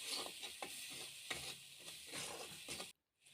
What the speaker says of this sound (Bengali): এগুলো ভালো করে ভেজে নিলাম